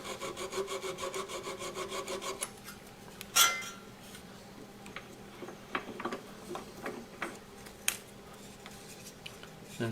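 A small hand saw cuts off a wooden nib left on a spindle blank, giving a steady run of quick, faint rasping strokes that fades into scattered light taps and scrapes.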